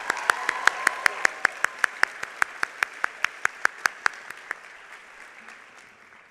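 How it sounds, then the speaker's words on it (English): Audience applause at a law school commencement ceremony, a large crowd clapping steadily and loudly at first, then thinning and fading out over several seconds. "I'd like another round of applause for Maria Eugenia Guerrien."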